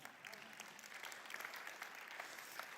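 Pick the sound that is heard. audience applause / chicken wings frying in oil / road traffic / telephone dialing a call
audience applause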